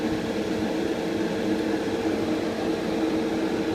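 Airbrush back blow while painting a Gundam model kit, forcing air back through the paint cup to mix the paint. It makes a steady, close, bubbling airy hiss that runs without a break and with no talk over it.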